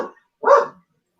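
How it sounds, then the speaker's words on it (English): A single dog's bark or yelp, loud and close, follows a brief trailing sound, then silence. "Dog all upset."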